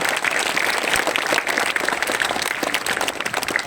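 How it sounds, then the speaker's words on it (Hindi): An audience at a 2022 Eid Mubarak gathering claps loudly and continuously for the chief guest, a dense, close wall of applause that fills the whole moment. "एक बार जोरदार तालियां हमारे चीफ गेस्ट के लिए।"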